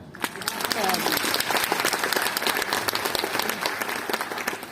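An audience at an International Bhikkhuni Sangha Day gathering in Vashi, Navi Mumbai, applauds, a dense, loud burst of clapping that swells and holds steady and then starts to fade.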